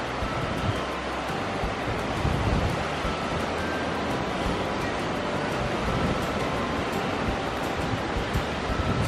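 Steady, dense wash of surf rolls onto a powder-sand beach at Indian Shores, Florida, a continuous broadband roar with no distinct breaks and no voices.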